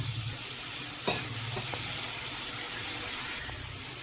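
Bell peppers fry lightly in a pan with a steady, fairly loud sizzle, broken by a few scrapes of stirring; no voices.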